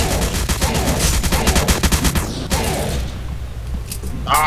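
Rapid automatic gunfire rattles in dense bursts during a Roblox monster-hunting game, with mechanical clanks, a pause of quieter rumbling and a short sharp burst at the end.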